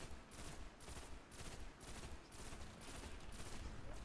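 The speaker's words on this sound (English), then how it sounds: "maybe shooting that thing from all the way over here is not a good idea" Gunfire in the video game Destiny during a Nightfall strike comes as rapid repeated bursts of shots in a steady rhythm, fairly faint and with no talking.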